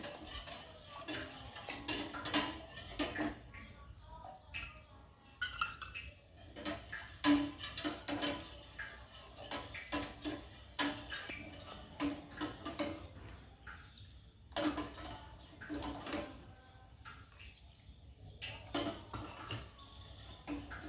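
Custard stirred into hot milk in a pot on a low gas flame, with a spoon scraping and clinking against the metal in an irregular rhythm, quiet and close throughout.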